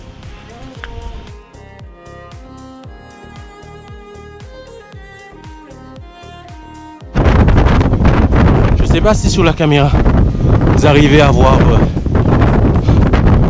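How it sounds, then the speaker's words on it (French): Strong wind roars loudly into the microphone on La Soufrière volcano in Guadeloupe and drowns out a person talking; earlier, quieter plucked music plays before the gusts take over. "Il y a vraiment beaucoup de vent."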